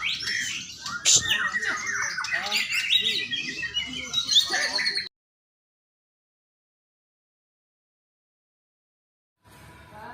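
A white-rumped shama (murai batu) in the ngelowo singing state sings loudly and close in rapid, varied whistles and chirps, then falls silent before a faint return at the end.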